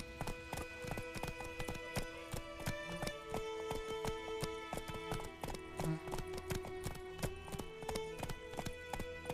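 A horse's hooves gallop in The Witcher 3, with steady rhythmic clip-clop beats throughout over a sustained musical background.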